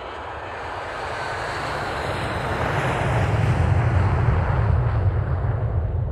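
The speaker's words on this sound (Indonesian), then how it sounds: "pesawat pun segera lepas landas" Airplane taking off at night as a sound effect: a steady, loud jet engine roar that swells over several seconds with broad rushing noise and deep low rumble, no voices.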